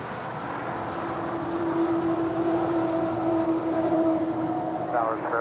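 A three-year-old Norse Atlantic Boeing 787-9 Dreamliner jet airliner at LAX gives off a steady, loud turbine roar with a sustained whine, near and swelling slightly before easing off.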